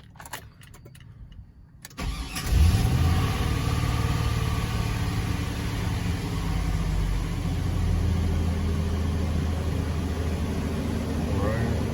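A Chevrolet Silverado pickup with its service engine light on and a faulty EVAP solenoid cranks after a couple of seconds of quiet, then catches and settles into a steady, close, rumbling idle that continues to the end.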